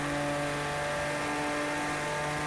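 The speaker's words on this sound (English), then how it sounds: "the sound of this engine just never gets old, man" The Porsche 911 Carrera RSR racing engine in the Project Cars video game, driven on the Nürburgring Nordschleife, hums at a steady, sustained pitch with a constant loud drone and whirring tones, no speech.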